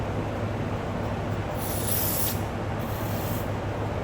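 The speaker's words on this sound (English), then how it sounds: "Don't want to mess up my bed liner with brake cleaner." Brake cleaner hisses from an aerosol can near the bed liner of a 1992 Dodge Cummins pickup in two brief sharp bursts over a steady low hum, with no talking.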